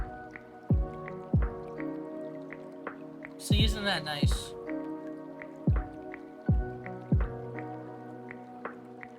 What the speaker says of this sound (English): Y'all want to listen to some gentle rain to calm your anxiety?